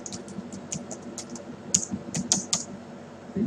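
Crisp clicks of a computer keyboard as a line of code is typed, about a dozen quick irregular keystrokes close by, with a few louder taps in the middle and nobody talking.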